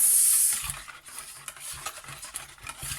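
Butter and melted chocolate batter mixed for a moist chocolate cake, a soft wet stirring with a regular swishing rhythm after a brief hissy start, close and quiet with no speech.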